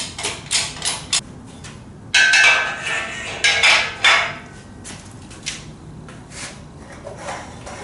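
Metal jack work on a lift arm, lining up bolt holes on the frame of a 1949 Studebaker 2R5 cab: a series of close, sharp metallic knocks and clanks in uneven bursts, louder in the middle, with no talking.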